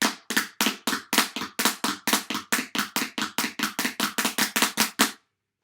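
Rapid run of doubled drum strokes, each hit with a grace-note flam, evenly paced for about five seconds before stopping abruptly.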